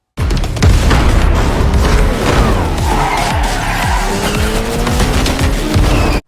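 Motorcycles ride and skid in Fortnite Chapter 4 Season 2, with loud, continuous engine roar, repeated tire squeals and skids, and occasional booms filling the full stretch.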